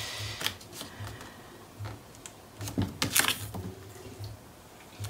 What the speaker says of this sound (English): And I forgot to put tape on it.